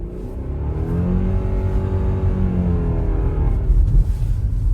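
A 2024 Subaru Forester's engine revs at full throttle in deep snow, a loud, steady droning roar holding high for several seconds with a slight dip and rise near the end, heard up close with no talking.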